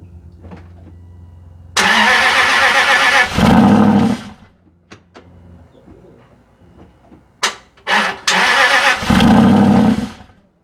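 A cold Aston Martin Vantage engine cranks and fires with a loud burst, then dies, and after a short pause a few sharp clicks lead to a second loud start that stalls again.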